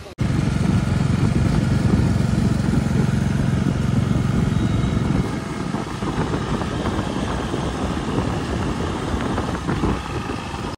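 A motorcycle rides into the parking area of Ambience Mall in Gurgaon, its engine a loud, close, steady drone that drops to a lower, rougher hum about halfway through.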